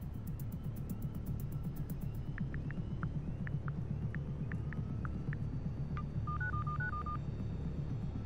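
A phone unlocking a laptop in Need for Speed Heat gives a run of short, distinct electronic beeps, spaced single tones and then a quick rising and falling chirp, heard over low engine hum and ambient rumble.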